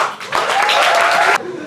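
A studio audience breaks into loud applause as a performer is called on stage, a brief burst of clapping lasting about a second before cutting off abruptly.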